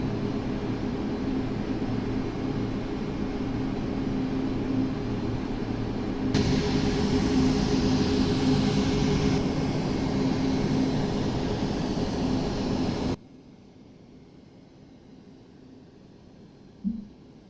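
Simulated Boeing 737 MAX 9 airliner rolling down the runway for takeoff in the Aerofly FS Global flight simulator, a steady, loud broadband engine roar that swells midway and cuts off abruptly, leaving quiet room tone with a brief thump near the end.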